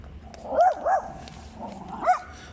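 A dog on a city street walk in Hangzhou, China barks in a few short, close, moderately loud bow-wow bursts, with low background street noise underneath.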